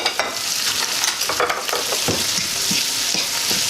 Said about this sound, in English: I put in the tomato with it for the tomato to cook with it as well